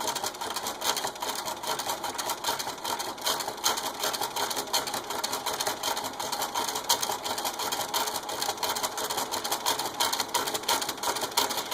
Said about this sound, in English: So we're just going to sew. You don't need to back stitch. You just start, and it's going to do a really tight zigzag.